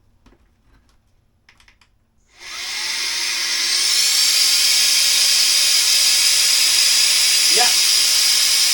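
A pack raft inflating through its valve gives a loud, steady rushing hiss that starts abruptly after a few quiet seconds with faint tapping, then holds constant to the end, with a brief squeak partway through.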